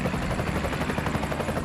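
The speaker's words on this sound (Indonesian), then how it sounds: "Wah ada helikopter nih." A helicopter near a small work site where a red excavator is helping build a helipad, giving a steady, dense rotor chop and engine roar that fills the short moment without pause.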